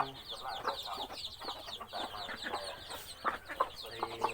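Two young Thai fighting cockerels cluck close by in a busy, continuous string of short, choppy calls with a few sharper squawks toward the end.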